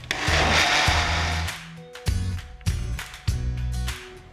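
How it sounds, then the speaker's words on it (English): A kitchen blender whizzes crepe batter of yogurt, sugar and flour, a loud buzzing motor that runs, stops and restarts in several short bursts. "it all goes into a blender and we just whiz that up"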